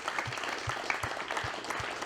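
Steady crowd clapping at a bass fishing team banquet, continuous and fairly close, with a few low thumps and a faint voice or two underneath.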